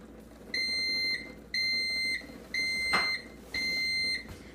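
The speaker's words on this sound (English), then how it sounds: "that is my timer" Four evenly spaced electronic beeps from a kitchen timer, each about half a second long, sounding loud and shrill against a quiet background hum.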